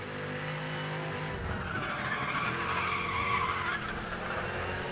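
Race car in the video game Need for Speed The Run drifting with sustained tire screech over a loud engine roar, the squeal swelling and sliding in pitch throughout, with no talking.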